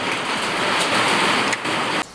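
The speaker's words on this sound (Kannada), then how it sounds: "ಬ್ಯಾಸ್ಗ್ಯಾಗ ಮಳೆ ಬರ್ಲತ್ತ" Steady summer rain at night, a dense even hiss of drops falling on surfaces close by, continuous and fairly loud, briefly dipping near the end.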